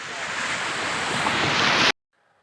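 Sea waves wash onto the shore near Somnath Temple, a steady loud rush with wind noise that cuts off abruptly near the end.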